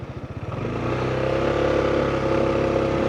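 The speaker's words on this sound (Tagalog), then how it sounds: "nakakapag-motor na si Lucky dito" A motorcycle engine revs up and runs steadily nearby on a rural road past grazing cattle, its low engine note building over the first second and then holding strong and continuous.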